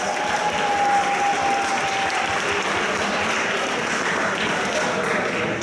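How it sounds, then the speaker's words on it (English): Steady crowd applause at a convention bartending competition, dense clapping that fills the room evenly from start to finish with no break. "Big round of applause, please."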